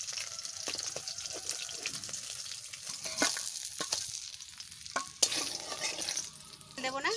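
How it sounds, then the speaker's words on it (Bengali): Tarini fish fry in oil with a continuous bubbling sizzle, broken by scattered clinks and scraping of a utensil and short splashy bursts near the end. "এই তারিনি মাছ ভাজা হয়ে গেছে, তুলে নিচ্ছি"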